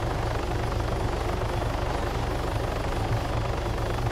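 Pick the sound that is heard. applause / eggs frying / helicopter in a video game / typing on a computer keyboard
helicopter in a video game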